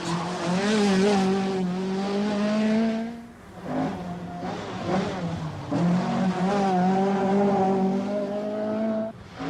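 Opel Manta rally cars race on the Isle of Man, engines screaming loudly through a close pass with rising and falling revs, briefly dipping before another car roars by at full throttle.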